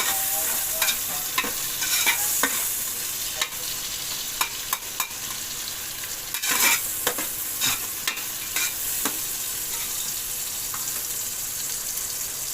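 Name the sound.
onions frying in oil for chicken biryani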